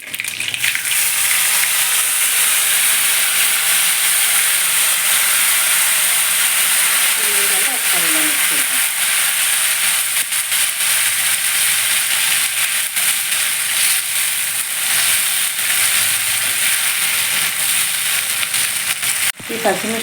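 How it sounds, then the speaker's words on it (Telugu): Baby onion curry in tomato puree with green chilies fries and bubbles at a rolling boil, producing a loud, steady hissing sizzle throughout, with faint bubbling and a brief stir near the end. "ఇలా రోలింగ్ బాయిల్ అవుతుంది కదా ఇలాగా ఫ్రై అవుతూ బాయిల్ అవ్వాలి"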